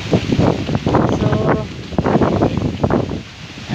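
Gusty wind buffets the microphone outdoors beside a river with low water, a steady broadband rush with rustling swells that rise and fall throughout.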